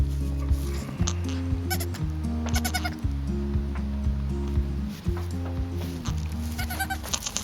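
Several dairy goats bleat over and over, loud and close, their calls overlapping in a steady string of cries.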